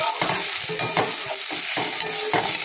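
Food frying in a pan on a home stove, with sugar added, as a spoon or spatula stirs it through the oil: steady close sizzle broken by repeated scraping strokes against the pan, no voices.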